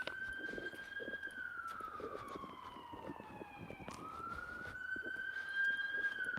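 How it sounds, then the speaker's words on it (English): A police siren wails outside, its steady tone dipping and rising again as the vehicle passes, moderately distant and heard alone over faint background rumble. "There's a lot of activity happening right now. Sirens and stuff."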